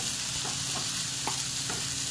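Onions fry in a pan with a dense, continuous sizzle, and a spoon stirs through them with a few soft scraping strokes. No voices.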